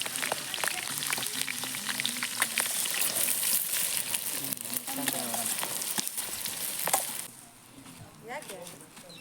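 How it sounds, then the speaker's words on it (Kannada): Onions and green chillies sizzle and crackle loudly in hot oil in a pan at an outdoor family cooking session, a dense steady frying hiss with stirring clinks that drops off near the end, under a voice. "ಹಸಿಮೆಣಸಿನ್ಕಾಯಿ ಮತ್ತು ಚಿಕ್ಕದಾಗಿ ಹಚ್ಚಿಟ್ಕೊಂಡಿರೋ ಆನಿಯನ್ನ ಆ್ಯಡ್ ಮಾಡ್ಕೊತಾನೆ"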